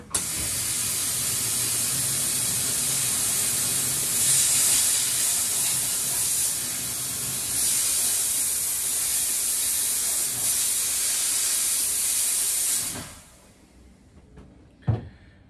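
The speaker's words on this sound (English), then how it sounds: "Now for the bracelet, I just hold it with my hands and I don't get my fingers too close to the steam." A steam cleaner hisses loudly and continuously as a vintage Rolex watch bracelet is held in its jet, a sustained spray lasting about thirteen seconds before cutting off, followed by a brief clunk.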